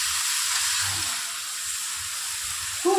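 Prawns frying with spices in a pan give a steady, close sizzling hiss throughout, with faint low stirring knocks and a brief louder scrape at the end.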